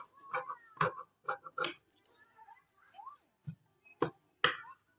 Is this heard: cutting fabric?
yes